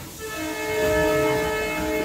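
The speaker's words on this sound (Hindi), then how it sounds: "हॉन्किंग हो चली है" The Koyna Express blows a loud, sustained horn at Karad railway station, one steady blast lasting the whole moment with no talk.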